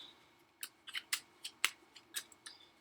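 Game cards for a solo tabletop game are shuffled, a quick run of about eight sharp, crisp riffling snaps close by, with no talking.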